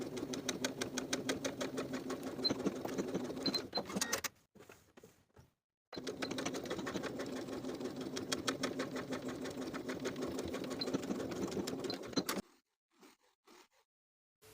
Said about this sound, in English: stitch along the binding from the top raw edge to the first notch, backstitching to secure.